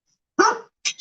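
A dog barks twice, close and loud, in a home while ice is falling outside: one full, harsh bark followed a moment later by a shorter second one, with silence around them.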